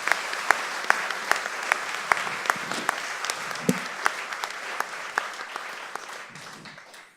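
An audience claps steadily at a live event, with sharp individual claps standing out from the dense applause. Toward the end it fades out.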